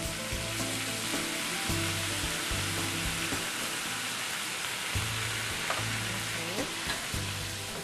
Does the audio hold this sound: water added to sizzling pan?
yes